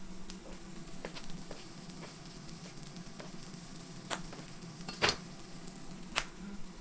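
A knife slicing Polish pork kielbasa sausage on a cutting board, faint scattered taps and clicks from the blade meeting the board, with one louder knock near the end, over a quiet hiss.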